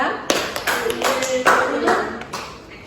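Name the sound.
applause for group 2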